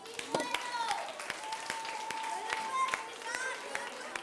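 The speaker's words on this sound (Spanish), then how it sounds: "Está fuerte, un aplauso a Paula." Scattered applause from a science show audience for a young volunteer, individual claps sounding sharp and sparse rather than a full ovation, with voices and a thin whistling tone in the background.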